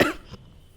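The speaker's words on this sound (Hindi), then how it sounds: "ये मुझे खांसी डेटॉल की वजह से आई है।" A single sharp cough near the mic, with a little throat-clearing in it, fades quickly into a quiet room. It comes from a woman wearing a mask after Dettol disinfectant spray has been sprayed throughout the house.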